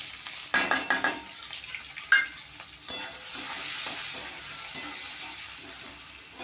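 Onion hits hot oil in a wok after crab has been fried, giving a bright sizzle marked by several sharp scraping stirs and clinks of a utensil against the pan, near and clear with no voices.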